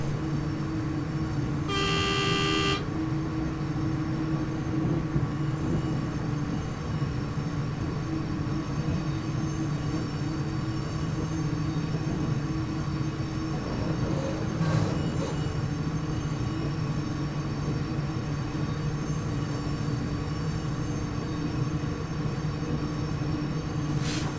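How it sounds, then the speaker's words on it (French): A CC 40100 electric locomotive hauls a train into Lille Flandres station. A short horn toot sounds near the start, followed by a steady rumble of wheels and carriages that continues throughout. "Donc nous arrivons en gare de l'île Flandre."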